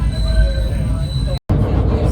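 A PATH train runs through the tunnel under the Hudson River toward New Jersey, giving a loud, steady rumble with faint high squealing tones and a very brief dropout near the end.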